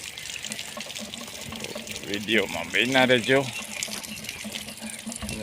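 Narmada drinking water runs from a tap into containers, a steady trickle and splash rising in pitch as a vessel fills; someone speaks briefly over it.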